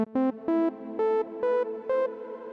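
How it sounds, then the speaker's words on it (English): A basic saw wave synth patch in Serum 2, run through a filter with light reverb, plays six short buzzy notes in a steady rhythm, each rising slightly in pitch, with a soft reverb tail between them. "I've got this basic patch pulled up here, just a bit of reverb, saw wave,"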